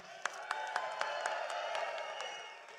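Crowd at a large outdoor political rally cheering and applauding, a dense wash of clapping with a few sharper claps standing out, heard from some distance and fairly faint.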